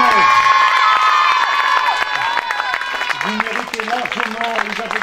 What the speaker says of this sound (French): les applaudissements de tout le groupe